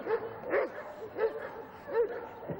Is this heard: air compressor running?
no